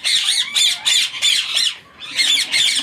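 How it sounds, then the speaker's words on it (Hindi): Pet birds squawk loudly in a breeding aviary in Pakistan, shrill harsh calls repeating in quick bursts with brief pauses, several birds overlapping close by, no talk. "परिंदों की चहचहाने की वजह से अभी मेरे ख्याल में आवाज़ कुछ डिस्टर्बेंस होगी"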